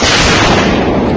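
An 80mm mortar bomb bursts a few feet away on a front line, caught up close by a head-mounted camera: a loud, dense roar of blast noise fills the whole moment without a break.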